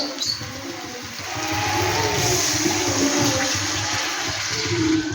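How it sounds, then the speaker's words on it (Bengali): Water pours into a cooking pot for a koikopi curry, a continuous close gushing splash that swells after a brief start and holds steady to the end. "এবার আমি জল দিয়ে দেবো"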